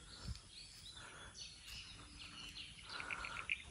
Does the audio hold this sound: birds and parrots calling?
yes